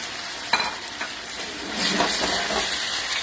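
Cherry tomatoes drop into a hot pan for a chickpea pasta sauce and fry with a loud, continuous sizzle, joined by a few sharp clatters as they are stirred.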